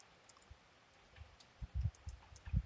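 Several soft computer mouse clicks, close and quiet, arriving in a loose irregular cluster toward the end with no talk.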